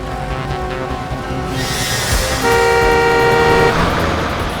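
A car approaches on a road, its engine rising under short, loud tonal horn toots that swell near the end.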